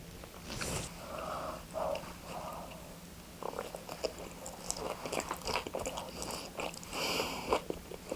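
A bagel spread with pecan topping is bitten and chewed up close, with soft crunchy bites and moist mastication sounds continuing quietly over several seconds, no talking.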